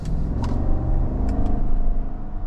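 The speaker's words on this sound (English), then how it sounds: "Really strong power from this V8" A 2025 GMC Yukon Denali Ultimate with a V8 drives along, its steady low engine rumble and road noise filling the cabin at an even, continuous level.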